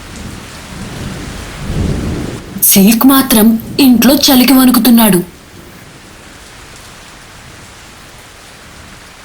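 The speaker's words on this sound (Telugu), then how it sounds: "మరుసటి రోజు తుఫాన్ వల్ల పెద్దగా గాలులు వీస్తున్నాయి" A cyclone brings strong winds and heavy rain to a deserted village, with a constant loud rain hiss outside. A voice speaks over it for a few seconds midway, then the steady downpour carries on alone.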